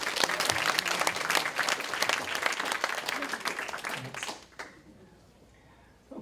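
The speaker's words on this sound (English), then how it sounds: "So let's give them another round of applause." An audience at the South Bay Center opening claps loudly and continuously, then the applause fades out abruptly, leaving a quiet room with a faint stray sound at the very end.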